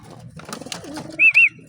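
Racing pigeons at a loft give soft, low cooing with a couple of brief higher calls near the end, close and fairly quiet, with no talking.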